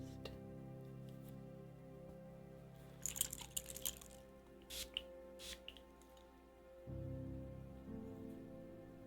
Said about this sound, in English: I'm going to start us off with a spray cleanse, and using this instead of smoke.